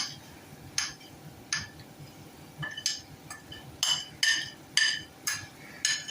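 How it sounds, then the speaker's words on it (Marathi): Barnyard millet upma being stirred in a pot, with a spoon clinking against the metal in several separate sharp knocks spaced over a few seconds. The knocks are close and fairly clear above a quiet background. "सर्व असं ढवळून मिक्स करून घेऊया आपलं हे मिश्रण घट्ट होईपर्यंत आपण ढवळत राहायचं"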